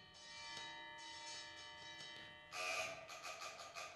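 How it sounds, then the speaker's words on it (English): Fire gong effect on a museum organ at a live Christmas performance, a sustained ringing metallic tone that swells into a brighter, louder struck clang with shimmering repeats near the end. "Fire gong,"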